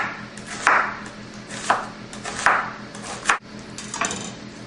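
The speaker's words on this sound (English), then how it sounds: "So here I'm going to chop one large onion, and you want to cut this into long slices." A kitchen knife slices a large onion into long strips on a cutting board, with about five crisp, close chops at an uneven pace and no voices.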